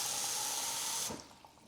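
Plain water runs from a tap into a sports drink bottle in a steady, close stream for about a second, then stops with a few faint drips and clinks.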